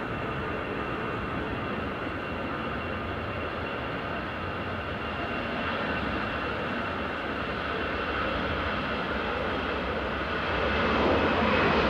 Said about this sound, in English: Taking Aer Lingus flight 203 back to Dublin.